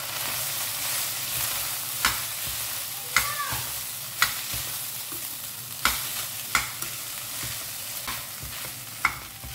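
Cooked lemon rice being mixed with a spatula in a pan, with repeated scraping clacks over a soft background sizzle, steady and fairly close.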